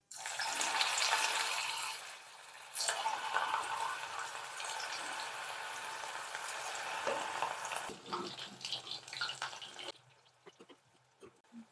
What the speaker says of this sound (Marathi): आता मी ते तेलामध्ये तळते